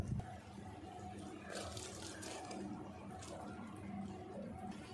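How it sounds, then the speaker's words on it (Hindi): Uncooked rice poured into a pan of melted jaggery for sweet jaggery rice: a faint, continuous rushing hiss lasting several seconds over a low background hum. "गुड़ पिघल गया, अब इसमें डाल देते हैं चावल।"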